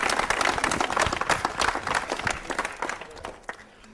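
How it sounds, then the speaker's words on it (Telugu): Applause from a college audience at Einstein PG College in Hyderabad, a dense wash of many hands clapping that swells and then thins out toward the end. "okay please clap for Raj Kumar guys"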